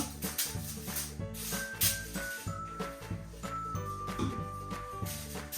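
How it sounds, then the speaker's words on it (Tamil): Cooking spray hisses onto foil paper in short repeated bursts, close by, over a steady background hum with light metallic tinkles. "ஸோ ஃபொயில் பேப்பருக்கு இப்படி வந்து ஸ்ப்ரே பண்ணிக்கொள்ளுங்க"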